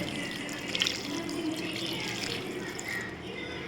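Water pours steadily into a pot, a soft continuous splashing and trickling heard up close.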